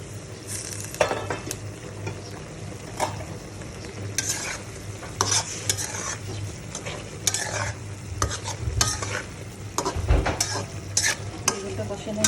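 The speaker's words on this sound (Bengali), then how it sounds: "এখন এটা আমি নেড়ে চেড়ে একটু ঢাকনা দিয়ে দেবো।" Eggplant stirred and frying in a pan, with a steady sizzle throughout and repeated scraping and clinking strokes of a utensil against the pan, close and fairly loud.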